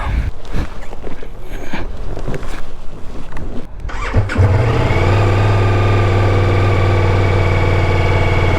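A Ducati Multistrada V4S Grand Tour motorcycle fires up about halfway through, its V4 engine settling into a loud, steady, close rumble with rising revs after a few seconds of quieter rustling.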